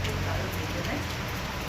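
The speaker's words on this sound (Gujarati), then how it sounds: "બહાર બારિશ ચાલુ હો ચૂકી है फाइनली." Rain falls outside in a constant, even wash of hiss with no breaks or individual drops standing out.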